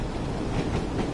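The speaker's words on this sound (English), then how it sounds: "Oh look, there's another long train." A long train passing in the Train Sim World game on the Tees Valley Line, a dense continuous rumble with rhythmic wheel clatter, close and steady, no speech.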